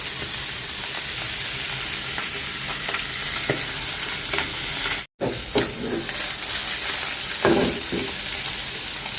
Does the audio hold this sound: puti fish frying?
yes